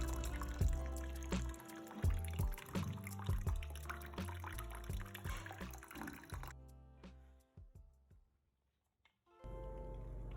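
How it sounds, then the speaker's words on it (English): Water trickles and drips into a toilet cistern tank, a steady run of small splashes and plinks that briefly drops to near silence before the flow resumes. "resulting in tiny bit of water flowing into the tank"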